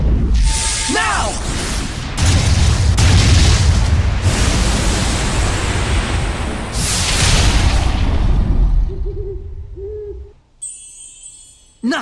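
A gunshot and explosion roar out in the Tales of Zestiria video game, a long loud rumbling blast that fills the scene and then drops away to quieter ambience, with game voices heard.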